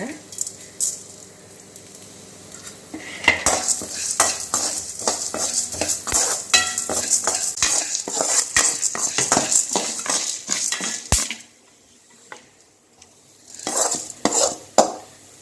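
Urad dal, chana dal, tamarind and pepper dry-roasting in a pan, heard as quick repeated spatula scrapes and clinks against the metal with a light crackle, close and busy, pausing briefly near the end.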